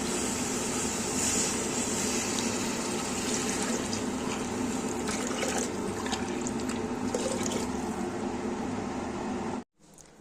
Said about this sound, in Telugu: ఒక గ్లాసు బియ్యానికి రెండు గ్లాసులు నీళ్లు వేసుకుందాం